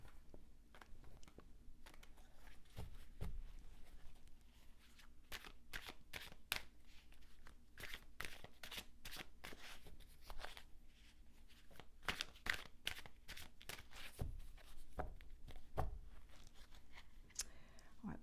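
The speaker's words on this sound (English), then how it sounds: "let's get these cards shuffled" Tarot cards shuffled by hand, a quiet run of crisp riffling flicks and soft slaps repeating in irregular bursts close by, with no talk.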